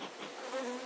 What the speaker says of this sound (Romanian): albinele